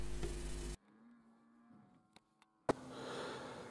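Cattle in a farm paddock, one low moo at the start followed by near quiet with faint snuffling and a couple of clicks, then a broad rustling noise.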